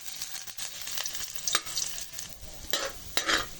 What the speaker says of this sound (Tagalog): Una natin igisa yung luya.